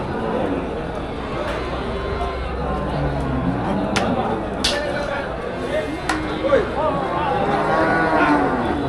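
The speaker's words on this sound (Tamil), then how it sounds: "ஜெர்சி மாடு இன்னைக்கு ஏகப்பட்ட மாடு." Jersey cattle mooing at the crowded Melapalayam cattle market, with low drawn-out calls under steady crowd noise and people talking throughout.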